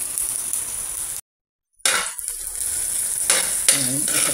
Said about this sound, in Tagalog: magigisa na tayo. So, unahin na natin to sabay-sabay na mainit na yung mantika natin para mabango na kaagad